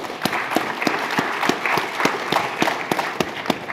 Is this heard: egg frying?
no